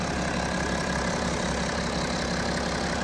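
A BMW 335d M Sport Shadow Edition Touring diesel idling smoothly, a steady low rumble and even hum that holds constant throughout with no talking.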